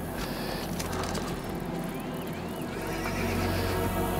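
A horse whinnies in the Assassin's Creed Brotherhood video game, a loud drawn-out neigh over steady in-game background noise with faint clip-clop and mechanical clatter.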